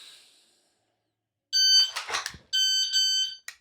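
A Kestrel KST-1000 shot timer sounds two loud, piercing electronic beeps about a second apart at a pistol draw drill, with a short click at the end.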